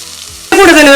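Ground onion, garlic and ginger masala hits hot coconut oil with a sudden loud sizzle after a quiet start, then fries in a steady, close, bright crackle.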